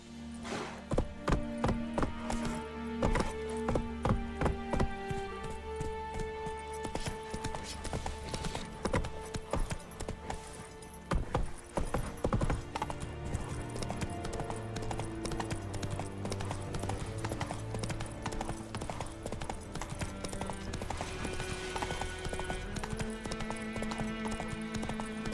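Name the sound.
horse Roach galloping in video game The Witcher 3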